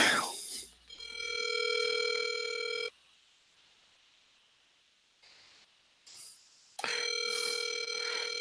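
A telephone on a cold call, heard alone: a steady tone hums for about two seconds, drops into near-silence with faint clicks, then the same loud tone starts again near the end.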